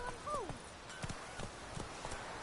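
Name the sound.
horse galloping in video game The Witcher 3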